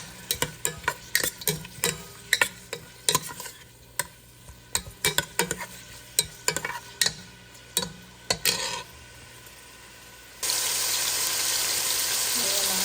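Milkfish (bangus) and shrimp being sautéed (gisa) in a pan, a series of sharp stirring clatters and scrapes over a low sizzle, followed by a sudden steady loud sizzle near the end.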